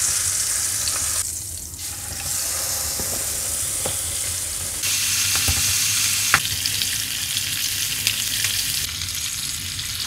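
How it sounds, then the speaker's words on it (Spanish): Chicken pieces browning in olive oil in a pan over high heat give a steady, close sizzle and crackle, with occasional soft stirring clicks and scrapes, and no voices. "Vamos a dorarlo a un fuego fuerte, porque no queremos que se nos cocine el pollo"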